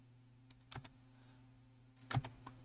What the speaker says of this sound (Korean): 탭키를 눌러서